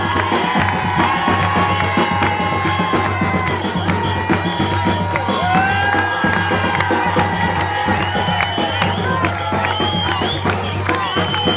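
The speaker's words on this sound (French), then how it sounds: "C'est après un rapide bain de foule et un bref échange avec la presse que François Fillon regagne son véhicule" A dense crowd cheers and shouts around François Fillon on Réunion, with children's voices and scattered whoops, continuous and close.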